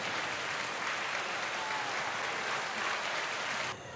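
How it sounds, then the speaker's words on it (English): Steady, dense applause from spectators at a swim meet, a broad wash of clapping lasting several seconds before it drops off abruptly, with no voices heard over it. "Let's give claps."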